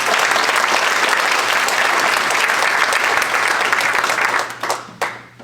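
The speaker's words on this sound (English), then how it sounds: "please give her one round of applause." Applause from an audience at a speaking event rolls on as a full, dense patter of many clapping hands, then thins out near the end with a few scattered last claps.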